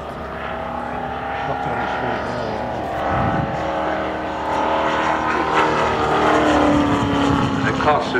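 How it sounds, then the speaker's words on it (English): The piston engine of a Douglas Skyraider flying at an airshow at Weston Park gives a steady, powerful drone that swells slightly as the aircraft passes, with a commentator talking over it. "this amazing aeroplane that's flying and stopping the show at the moment"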